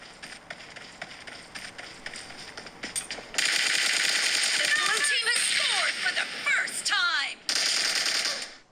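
Rapid bursts of automatic gunfire and shots from the battle royale game PUBG play through the small built-in speakers of an iPhone 11, thin and crisp, in quick clustered volleys.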